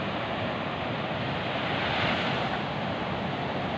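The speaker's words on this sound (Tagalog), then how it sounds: "malalaki po yung alon ngayon, pero dito po sa gilid mababaw lang siya" Large ocean waves at Patar Beach in Bolinao, a continuous loud roaring wash of surf with some wind noise, close and unbroken, no voices.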